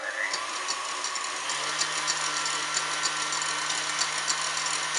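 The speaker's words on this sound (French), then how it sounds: "Là j'ai mis mon appareil pour le fouetter avec le robot." A stand mixer whisks a mixture until it cools, giving a steady motor whir with a light rhythmic rattle of the whisk in the bowl, close and continuous.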